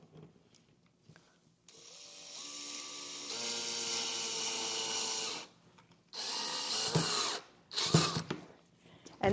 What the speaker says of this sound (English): So I'm going to place my D-ring in that hole, and I'm just going to screw it in.